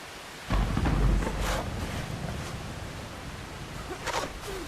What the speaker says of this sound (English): maybe we dig during this crazy storm